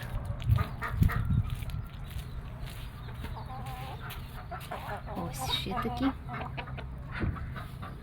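Chinese silkie roosters clucking nearby on a farm, soft irregular clucks and calls mixed with other poultry, while someone talks over them.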